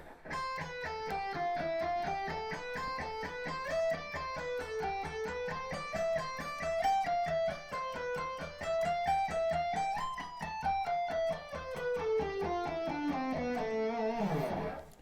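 A clean electric guitar alternate-picks a fast, even run of notes that winds downward in a repeating sequence, played alone at moderate volume.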